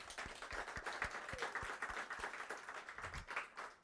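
Light, sparse clapping from a small conference audience, individual claps distinct and fairly faint, with a thin spread of hands under them.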